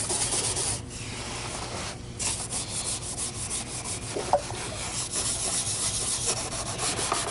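Rough plastic parts from an Electrolux Guardian Aerus Model 134 vacuum cleaner scrubbed with a Scotch-Brite pad, a close, steady abrasive rubbing with brief pauses between strokes, no talking.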